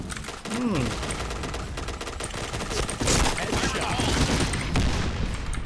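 The new Honey Badger light machine gun in Point Blank fires in rapid, dense bursts, a loud, continuous rattle of gunfire with a brief pause, while someone talks under it.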